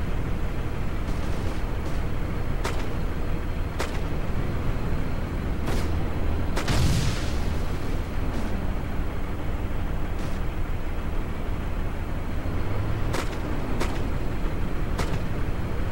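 Gunfire in an ArmA 2 military battle, with scattered sharp reports over a steady rumbling background of noise, including one louder nearby burst partway through.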